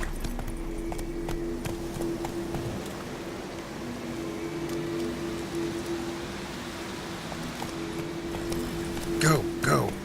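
Hooves of Roach, Geralt's horse in The Witcher 3: The Wild Hunt, clopping steadily at a run for several seconds under a constant low hum, with a brief louder burst near the end and speech-like sounds mixed in.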